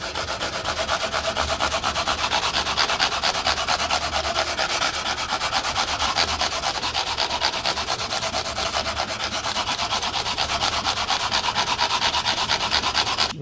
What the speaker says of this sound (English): I'm just gonna level the frets with my sanding paper